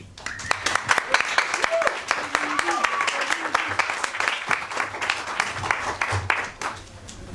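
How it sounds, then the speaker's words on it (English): Audience applause at an evening science talk, steady clapping from a seated crowd lasting several seconds with some voices mixed in, fading toward the end as the next speaker takes the mic. "So please applaud Emilie, and I'll give her the mic."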